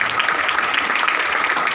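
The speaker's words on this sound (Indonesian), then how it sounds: "Kasih tepuk tangan untuk Tuhan Yesus." A church congregation claps together in steady, dense applause that fills the room loudly and continuously, with no pause.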